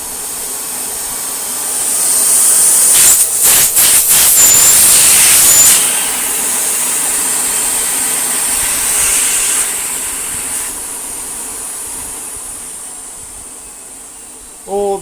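A Miele S5980 Revolution 5000 vacuum cleaner with its repaired hose refitted runs with a loud, airy whooshing drone, surging with a few rapid pulses early on, then holding steady and slowly fading, ending with a brief click.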